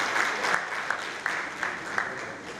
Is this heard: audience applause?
yes